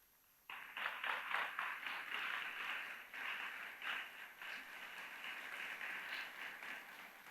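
A church congregation breaks into sudden applause for a father during a sermon, dense steady clapping starting abruptly and continuing strongly with slight swells, moderately distant.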